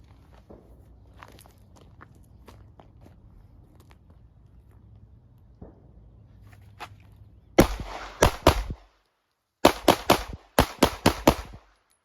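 A pistol fires during a beginner concealed carry drill on a range, with sharp loud shots in quick strings of about four, a pause, then more rapid bursts, after quiet shuffling and footsteps.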